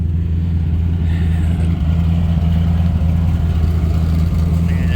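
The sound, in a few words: pickup truck engine idling, short exhaust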